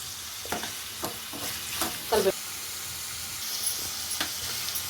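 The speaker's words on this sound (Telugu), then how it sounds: "ఇవి వేసుకొని బాగా ఫ్రై చేసి లైట్గా సాల్ట్ యాడ్ చేసుకున్నాము" Tomatoes fry in a pan with a light sprinkle of salt, giving a steady soft sizzle broken by several clear scrapes and knocks of a stirring spoon, with no talking.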